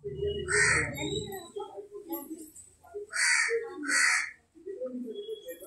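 Harsh crow caws ring out in a few loud bursts, one early and two close together later, with some background talk between.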